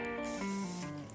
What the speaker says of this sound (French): Nos moules sont beurrés avec un agent de graissage